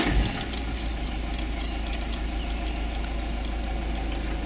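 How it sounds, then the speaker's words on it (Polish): A car engine cranks and catches near the start, then settles into a steady, close idle that continues alone with a low rumble for several seconds. "Zapalam samochód."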